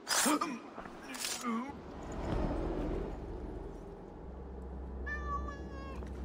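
A cat meows in Assassin's Creed Valhalla, a couple of short rising-falling cries near the start over game ambience, followed by a breathy vocal sound and a low rumble, with a person speaking briefly.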